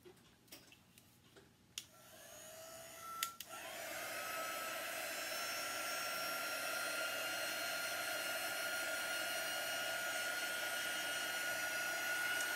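After a few clicks and handling knocks, a hair dryer switches on and blows a steady, even whir across a vintage toy truck, running alone for most of the span.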